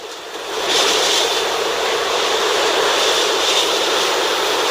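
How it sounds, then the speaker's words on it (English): Strong gusting wind from Hurricane Ida pushes side-on against the microphone as a broad, steady roar that swells sharply after the first moment and then holds loud and constant with no voices. "Whoa, here's a big gust, side wind."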